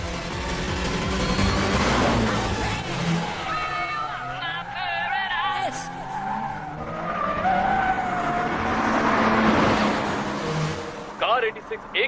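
A Toyota 86 GT race car in an anime uphill race roars along with skidding tires and other racing cars nearby. The engine surges and fades under a commentator's voice.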